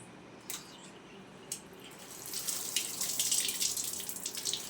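Water runs from a household tap during morning washing chores, a soft hiss with a couple of drips that swells into a steady, louder splashing stream about halfway through, with no talk.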